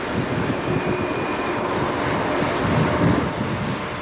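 A heavy returning unit coal freight train on the Clinchfield line near Erwin, Tennessee, in 1991 rumbles steadily nearby, a continuous low roar with wind buffeting the microphone and a faint high tone drifting above.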